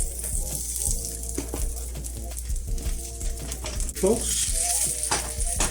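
Sucuk omelette with vegetables frying in a pan, a continuous close hiss and sizzle with clinks from stirring, while someone briefly speaks over it.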